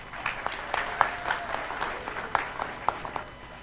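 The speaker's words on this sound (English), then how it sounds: "Big round of applause to the students." Audience applause for students at a summit and award event, dense continuous clapping from a sizeable crowd, loud and sustained throughout without talk.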